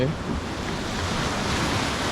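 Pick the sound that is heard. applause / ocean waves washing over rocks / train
ocean waves washing over rocks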